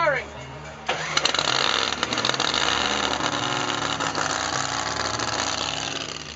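A billet quad cam drag car engine is cranked and fires up, jumping from a starter whine into a loud, rough, sustained roar that holds steady while a voice speaks over it.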